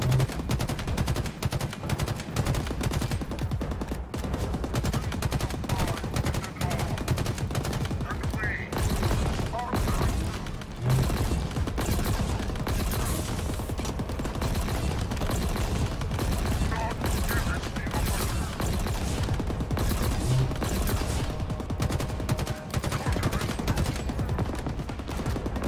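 Rapid bursts of automatic gunfire and scattered shots ring out in the Halo game campaign, dense and loud with short pauses, alongside players talking.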